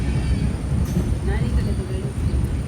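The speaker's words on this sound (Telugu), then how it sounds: "మన ట్రైన్ అయితే ఎరుగుంట్లోకి అయితే చేరుకుంది." A special express train pulls into platform 2 at Erraguntla station with a loud, steady low rumble and rolling noise up close, while people talk nearby.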